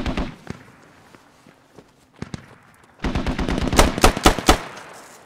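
Gunfire in the Squad military video game: scattered single shots and short bursts at first, then a loud, rapid string of close automatic fire crackling for the last couple of seconds.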